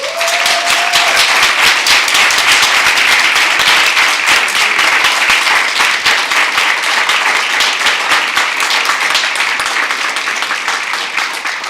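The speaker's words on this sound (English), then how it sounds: "please give a big round of applause to Parkland High School senior, Kenya Castañeda" An audience at a school district board of trustees meeting applauds for a high school senior, with steady, dense clapping that holds for the whole stretch and fades slightly at the end.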